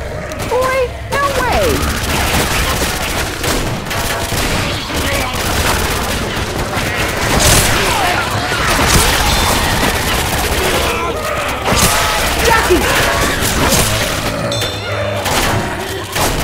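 Counter-Strike gunfire on the Office map, dense bursts of automatic shots and thuds across a chaotic firefight, loud throughout with players talking over it.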